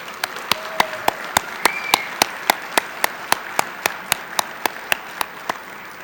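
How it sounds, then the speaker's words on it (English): A dinner audience gives a warm round of applause for the speakers and sponsors at a keynote dinner, a steady wash of clapping with distinct, regularly spaced louder claps close by. "So please give them a warm round of applause."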